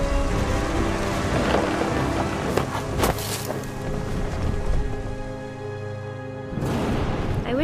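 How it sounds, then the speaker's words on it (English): A storm in the video game What Remains of Edith Finch brings steady heavy rain with low rolling thunder rumbling close by, then a fresh surge of downpour near the end. "Thunder sounded much too close and full of angry power"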